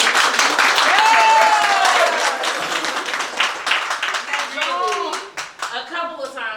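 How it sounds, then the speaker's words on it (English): Audience at a makeup event in New York City claps for a makeup artist, lively close clapping mixed with cheering and excited voices, thinning into scattered claps and chatter toward the end. "Another round of applause for Marietta for that wonderful practice"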